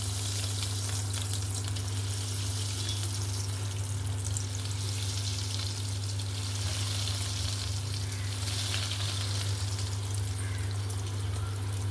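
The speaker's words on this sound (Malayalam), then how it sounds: "ഞാനിത് പൊരിക്കണം നിങ്ങൾക്ക് കാണിച്ചു തരാം കേട്ടോ" Dough balls deep-frying in hot oil in a home kitchen, a loud continuous crackling sizzle with a steady low hum beneath, no voices.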